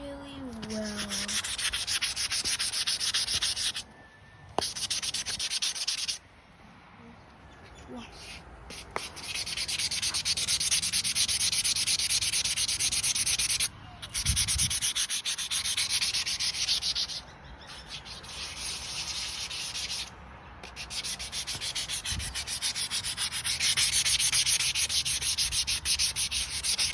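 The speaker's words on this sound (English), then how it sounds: "Seeming more flatter, and the sanding is working" Hand sanding of a temporary grill badge on a Rover P4 80 car: steady, close rasping strokes run in long continuous bursts, broken by several short pauses, with no talking.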